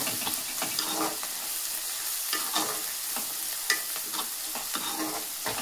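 Ginger-garlic paste frying in a pan for chicken curry: steady close sizzle with rhythmic scraping strokes of stirring, fairly even in loudness throughout.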